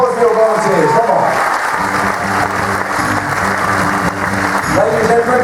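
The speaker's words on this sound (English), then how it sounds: "A huge round of applause for your volunteers." A hypnosis show audience applauds its volunteers with loud, sustained clapping that mixes with music and a voice speaking over it throughout.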